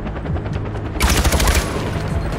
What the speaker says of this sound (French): à tout moment il me tire dessus